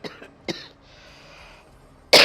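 A woman coughs in a home kitchen: a few sharp, close coughs, with one near the start, another half a second later and a loud burst at the end.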